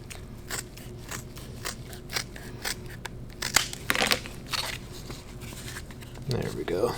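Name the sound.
trimming a Kydex/leather knife sheath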